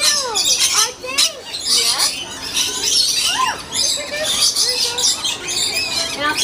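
A small bird squawks and chirps repeatedly in quick, uneven bursts close by, its sharp cries rising and falling over a busy background, with a person's voice heard intermittently alongside.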